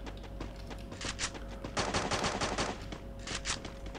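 Rapid bursts of video game gunfire crackle through the whole stretch, with a denser volley in the middle and more shots near the end, loud and close over a steady background hum.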